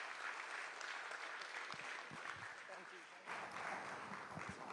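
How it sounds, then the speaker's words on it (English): Applause from an evening audience after a Three Generation Sarod Quintet performance, continuous clapping at moderate distance that briefly dips and swells again, with some faint voices mixed in. "another round of applause before we say goodbye to them"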